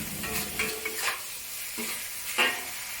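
Pork stir-fried in a wok for a Cantonese ginger and spring onion dish, a steady sizzle broken by several sharp scraping stirs of the spatula, close and fairly quiet, with no talking.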